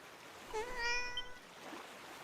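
A cat meows softly while being petted in the Dragon Quest VII video game, a short rising mew with harmonic tones over a quiet game background, no talking.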